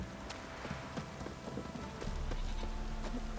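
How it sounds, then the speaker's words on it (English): Steady heavy rain patters across a surface in The Witcher 3: Wild Hunt, with scattered drop hits and a denser, louder wash in the second half. "This downpour's a bastard, it is."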